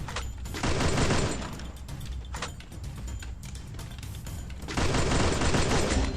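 Dense bursts of rapid gunfire from the battle game Free Fire, loud and close, firing in near-continuous volleys with a brief lull midway before another heavy barrage.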